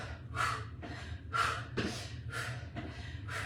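Sharp, heavy exhales and breaths from a person doing a dynamic warm-up with knee drives and elbow pulls. The breaths come in a steady rhythm of about six forceful puffs, close and fairly loud, with no talking.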